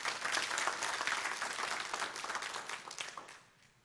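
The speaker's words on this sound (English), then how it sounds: "Give the Lord a clap." A church congregation claps for the Lord during a service, a full burst of applause that thins out and fades away near the end.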